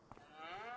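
Young cattle in Farming Simulator 25 give a single short, faint moo with a rising, drawn-out tone, heard alone with no talk.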